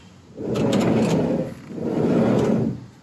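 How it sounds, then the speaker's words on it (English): The heavy sliding door of a 1980-84 Volkswagen Vanagon rumbles along its track on roller bearings twice, each a rough rolling grind about a second long, opening then closing. "these sliding doors are just very loud"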